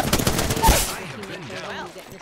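A rapid burst of gunfire in Apex Legends rattles loudly for about a second, then gives way to a person talking.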